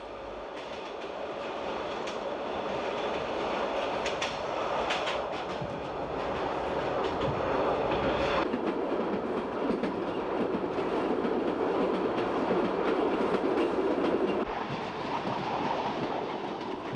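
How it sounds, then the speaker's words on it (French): Autorail X 97050 railcar crossing the Corsican coastal plain at about 80 km/h, a steady rumbling roll with rhythmic wheel clatter and rattling carriage noise throughout, heard from on board. "l'autorail traverse la plaine littorale à 80 km/h"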